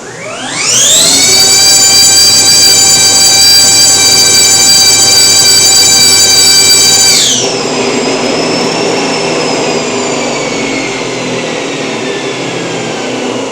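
A high-power electric motor running at 805 phase amps revs up under throttle with a loud, rising harmonic whine that holds steady. After about seven seconds the throttle comes off and the pitch drops into a quieter whir that slowly falls away.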